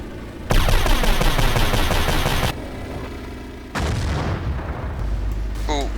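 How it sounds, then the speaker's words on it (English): Explosions and heavy gunfire from a tank-bombing battle in the World War II game Forgotten Honor, Desert Winds Raid campaign: a dense, loud barrage of booms and rattling shots, then a brief lull before another sustained burst, with faint voices underneath. "We need to keep bombing those tanks."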